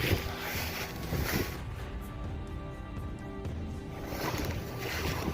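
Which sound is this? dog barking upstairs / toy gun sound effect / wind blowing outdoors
wind blowing outdoors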